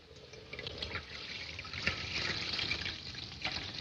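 A slow-running water tap trickles and splashes steadily into a vessel, a soft continuous pour with faint fluctuations and no voices.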